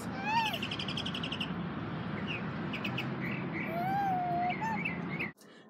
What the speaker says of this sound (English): the other bird over here was singing for us for a bit